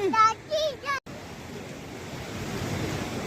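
Waterfall near the Atal Tunnel at Rohtang, a steady broadband rush of falling water that takes over after a second of brief voices and continues at an even, moderately loud level.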